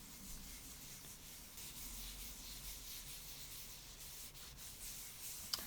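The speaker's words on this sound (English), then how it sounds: "I'm going to apply a whole bunch of mineral oil, rub it all in on all sides of the board" A cloth or hand rubbing mineral oil into a wooden cutting board, a soft continuous close swishing friction with no talking, ending in a brief tap.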